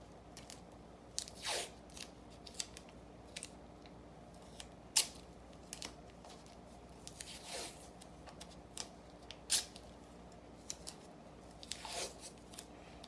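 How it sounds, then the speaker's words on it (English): Several painter's tape strips being pulled and torn off a roll, each a quick, faint ripping burst spaced a few seconds apart, with no talking. "I'm going to take my painter's tape. I'm just gonna get a few strips."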